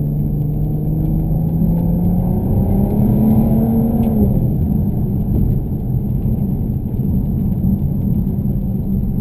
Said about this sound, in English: It's a really nice sounding 6-cylinder engine this.